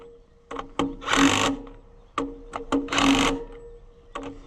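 An impact wrench fitted with a chrome socket fires in two close pairs of loud rattling bursts, each preceded by short clicks, while working on a Cletrac BD crawler tractor head, with quiet gaps between the bursts.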